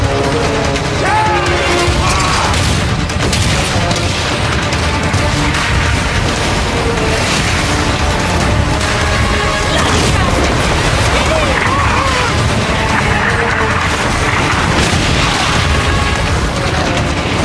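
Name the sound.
ship destroyed in naval battle in Ubisoft video game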